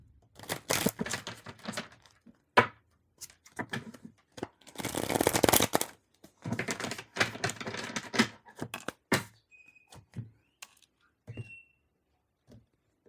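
Tarot cards are shuffled in several bursts of dry riffling and flapping, close and fairly loud, separated by short quiet gaps and scattered single taps and clicks, with no talk.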